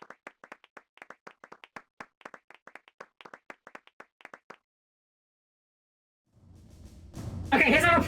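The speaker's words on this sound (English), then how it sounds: "Most awkward round of applause I've ever heard." Scattered applause from a small group in the video game Final Fantasy VIII, a sparse, uneven run of claps that trails off into silence before a rising swell of game music takes over.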